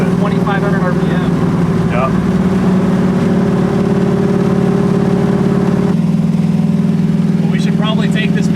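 A 540 cubic inch big block V8 in a 1968 Camaro pulls in high gear, giving a loud, continuous, deep engine drone from inside the car, with brief voices over it.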